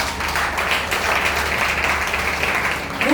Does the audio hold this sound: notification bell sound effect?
no